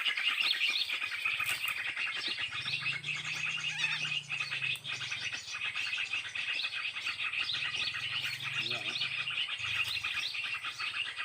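Jalak kapas birds calling in a rice field: dense, continuous high chirping and trilling from several birds over steady outdoor noise, with a low hum underneath throughout.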